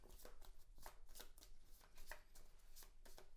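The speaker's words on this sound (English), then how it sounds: "I take my discard pile" A discard pile of Star Realms cards shuffled by hand on a tabletop, a quick run of soft riffling and slapping bursts, close and steady.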